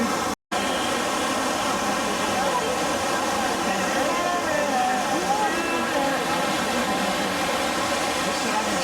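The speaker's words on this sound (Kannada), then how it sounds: "ಫಾಲ್ಸು ಸಖತ್ತಾಗಿದೆ ಇಲ್ಲಿಂದ" Steady, dense rushing water roars throughout from Mookanamane Abbi Falls during the monsoon, a continuous wash of noise, briefly cut by a short silence near the start.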